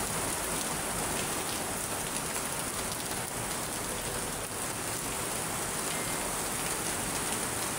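Steady, dense rainfall pattering on a surface, a constant hiss of drops with no voices and no letup.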